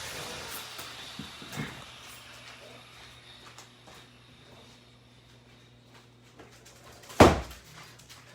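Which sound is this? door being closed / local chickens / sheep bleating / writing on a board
door being closed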